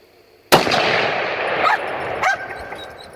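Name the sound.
rifle shot from a Ruger .300 Win Mag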